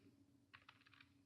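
Quick keystrokes on a computer keyboard while writing CSS code, a short burst of soft clicks followed by one sharper, louder tap near the end, close and alone.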